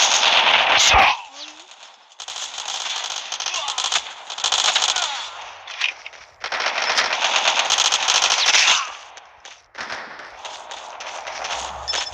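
Machine gun fire in the video game Call of Duty, long loud rapid bursts separated by short gaps, with a voice speaking briefly between them.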